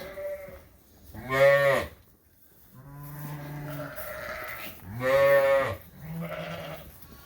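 Sheep bleating loudly nearby in a lambing barn, a few drawn-out calls one after another with short pauses between them, no talking.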